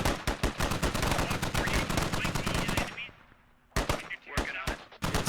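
Gunfire in the military shooter Squad, rapid rhythmic machine gun bursts close and loud for about three seconds, a quieter lull, then more sharp shots and short bursts.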